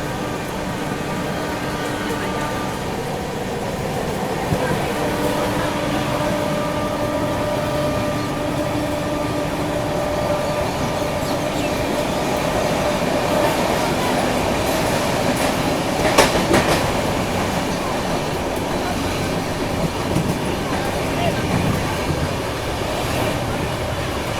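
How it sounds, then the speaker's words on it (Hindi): Mumbai Rajdhani Express, a push-pull train, gathers speed with a continuous loud rumble and rhythmic clickety-clack of wheels on rails, close and steady throughout. "ये देखो कितना बढ़िया तरीके से स्पीड अप हो रही है ट्रेन।"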